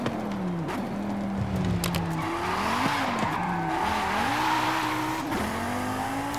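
A heavily tuned 1000 Nm Audi TT RS in Forza Horizon 5 skids with long, wavering tire squeals over a loud, constant engine roar.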